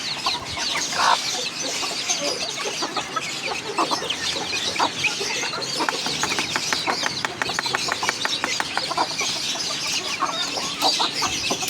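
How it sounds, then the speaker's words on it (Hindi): Small chicks pecking at scattered rice after their cage is opened, giving a steady chorus of soft clucks and cheeps with rapid bursts of pecking clicks, close and continuous throughout. "केज खोलने के बाद ये छोटे वाले चिक्स को चावल, ताकि ये थोड़े थोड़े चावल सब खा सकें"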